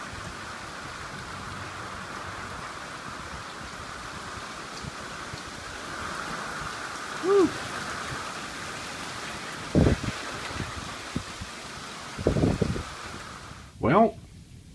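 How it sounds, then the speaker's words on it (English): Heavy driving rain pours down sideways in a thunderstorm, a constant loud hiss throughout, while a person makes brief exclamations over it near the end. "It is a driving rain."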